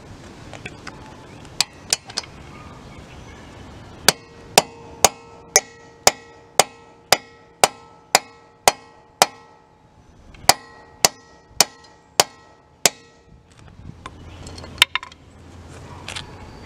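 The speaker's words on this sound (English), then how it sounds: "I'm using a 19mm 12-point socket, a little extension bar, and a 4-pound sledgehammer. I'm just going to hammer it on" A 4-pound sledgehammer hammering a 19mm 12-point socket with an extension bar onto a car wheel lock nut: a few scattered blows, then two fast regular runs of sharp metallic strikes, loud and close, with some faint clatter after.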